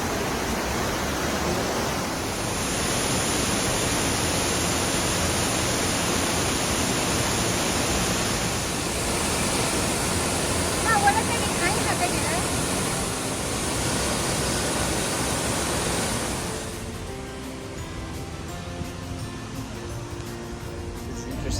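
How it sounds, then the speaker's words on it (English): Very hot geothermal water from a hot spring in Yunnan gushes and roars steadily up close, a broad constant rush that softens slightly toward the end. "this water is coming out very high temperature"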